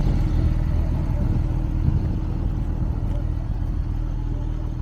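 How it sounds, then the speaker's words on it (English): A Porsche 911 cruising along, its engine and road noise forming a steady, continuous low rumble heard from inside the car, even in level with no breaks or sharp changes. "Riding with the 911."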